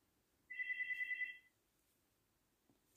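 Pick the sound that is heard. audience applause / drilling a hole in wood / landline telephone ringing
landline telephone ringing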